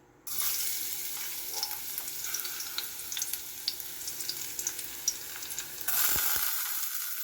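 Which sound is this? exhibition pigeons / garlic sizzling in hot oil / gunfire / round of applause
garlic sizzling in hot oil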